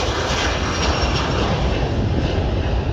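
An aircraft taking off at an air show in Košice produces a loud, continuous broadband engine roar that fills the whole moment without a break.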